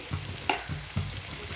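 Tomato with turmeric and chili powder frying in oil for a Kerala mackerel (ayala) dish gives a steady close sizzle. A couple of brief stirring scrapes and clinks stand out over it.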